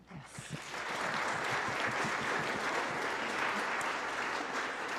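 A church congregation at a Sunday gathering breaks into applause that swells within the first second and holds as a dense, even wash of clapping to the end.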